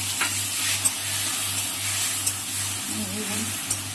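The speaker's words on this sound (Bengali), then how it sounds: "সর্ষে আর লঙ্কা একসঙ্গে পেস্ট করে একটু জল দিয়ে কড়াইতে দিয়ে দিলাম দিয়ে এবার নেড়ে করে দিলাম" Mustard and chili paste thinned with a little water sizzles steadily in a wok while being stirred, a constant close hiss with a low hum beneath and occasional soft scrapes.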